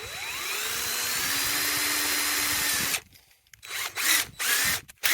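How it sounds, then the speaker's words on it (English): A power drill bores a hole through an electric fence insulator: about three seconds of loud, steady high-pitched whine, then several short bursts as the trigger is released and pulsed. "On a lot of these, I forgot to drill the hole"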